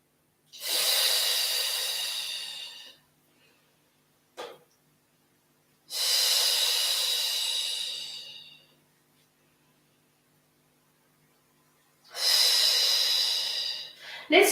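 Long, forceful breaths exhaled during a core stability Pilates exercise, three drawn-out hissing exhalations separated by quiet pauses, with a brief sharp intake between the first two, close and clear.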